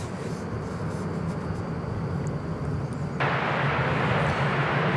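An American Airlines Airbus A321 jet arriving at DFW Airport after a flight from Puerto Vallarta, a steady loud roar of engine noise that swells into a broader rush partway through.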